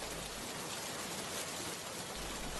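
Heavy rain pours down steadily over a village, a dense, even hiss of falling water with no break across the stretch.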